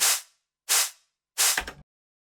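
Three reverb-drenched snare hits from a drum and bass beat built in Reason, each a sharp bright crack with a washy tail, evenly spaced about two-thirds of a second apart, the last cut short by a lower thud.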